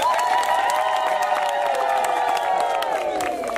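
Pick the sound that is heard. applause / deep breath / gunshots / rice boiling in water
applause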